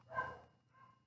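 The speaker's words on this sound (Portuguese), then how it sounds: "os cachorros de novo" Dogs bark faintly in the background of a room, one muffled bark followed by a softer whine-like tail, with no voices.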